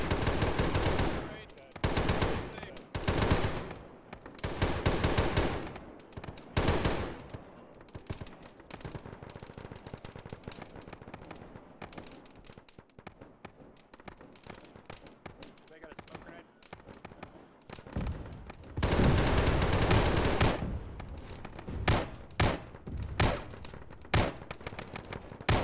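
Bursts of automatic and single-shot gunfire from a military shooter game, loud sustained volleys separated by pauses, with players talking over the action between and during the shooting.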